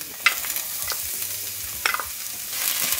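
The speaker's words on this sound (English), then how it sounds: "Garlic. Ooh, sizzle." Garlic sizzles steadily in a hot pan, a soft crackling hiss with a few sharper pops and spatters rising out of it.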